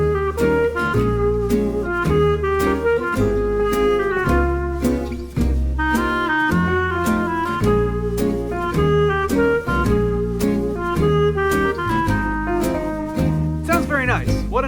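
A light, swinging stock music song plays steadily with regular plucked or struck notes over a bass line, with no talking over it.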